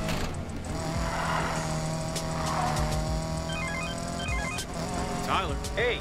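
An old car drives in the racing game Need for Speed Payback, its engine droning steadily with rising and falling revs, brief tire squeals near the end, and other game sounds layered underneath.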